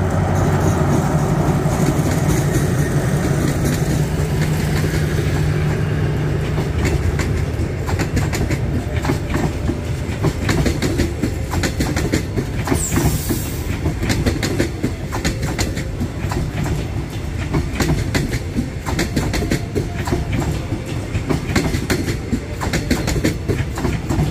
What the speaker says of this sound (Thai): แล้วก็ขบวนเปล่า รถ CNR นะฮะ อัลสตอม4136